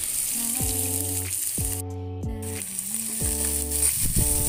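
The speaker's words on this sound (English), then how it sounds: "Saute them until they are brown, but not too much brown." Onions sizzle in hot oil in a frying pan, a steady bright hiss running through the whole stretch, with a tonal melodic sound playing over it.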